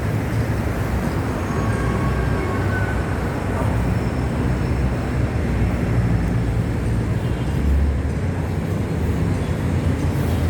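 An elevated MRT train rumbles past nearby on EDSA by SM Mega Mall with a loud, continuous roar and rattle, steady throughout with no pauses.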